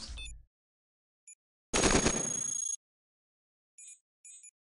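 Weapons firing in the robot roguelike video game Cogmind, a burst of sharp digital gunfire lasting about a second, with short electronic blips and chirps before and after, no talk over it.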